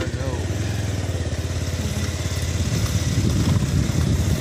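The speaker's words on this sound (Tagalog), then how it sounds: "May motor lagi." A motorcycle engine running nearby in a rural provincial setting, a steady chugging rumble that grows slightly louder toward the end, with people talking faintly over it.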